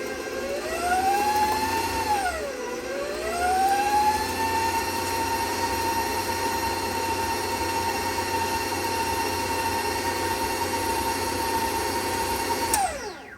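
An electric mixer beats New York style cheesecake filling with salt added, its motor whine climbing as the speed is cranked up, then holding a loud, steady drone before cutting off near the end. No one speaks.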